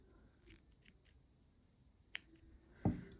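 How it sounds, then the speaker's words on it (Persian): Scissors snip through crochet yarn, one faint click followed by a sharper close snip near the end, in an otherwise quiet room. "خب حالا این رو قیچیش کنم."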